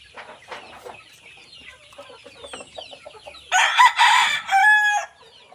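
Gamecock roosters crow loudly near the end over steady hen clucking and chatter from a flock of large breeder fowl, close by.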